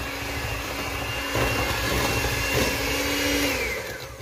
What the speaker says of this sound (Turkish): biraz sonra da mikserimizi kapatacağız